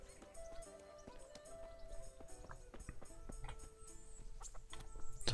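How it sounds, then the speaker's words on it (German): Horse hooves clip-clop in the video game Kingdom Come: Deliverance, sharp repeated knocks at an irregular walking pace amid faint farmyard ambience with clucking chickens, fairly quiet overall. "Hier gibt es Pferde."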